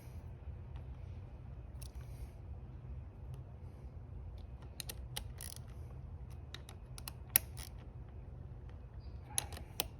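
Bar-end bolts on a Honda Trail CT125's BarkBuster hand guards being tightened with a ratchet, quiet close clicking pawl bursts and small metallic ticks over a low background hum, intermittent and sparse.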